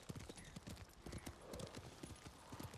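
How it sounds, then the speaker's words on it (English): Horse hooves clip-clop in the Ghost of Tsushima video game, a steady, quick rhythmic clatter of many soft hoofbeats at low volume, continuing throughout over a faint background hiss. "Thought I heard a horse."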